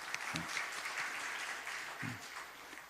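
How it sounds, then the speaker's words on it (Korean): Church congregation applauding during a Sunday worship service, a steady wash of clapping from many hands filling the room, with a couple of brief low voice bursts breaking through. "예, 박수 한번 드리겠습니다"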